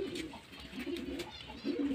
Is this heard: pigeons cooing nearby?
yes